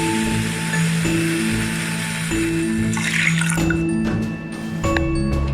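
About one and a half cups of water are poured onto half a cup of moong dal for payasam, a continuous splashing trickle close by over a steady kitchen hum, with a brief clink near the end; no talk.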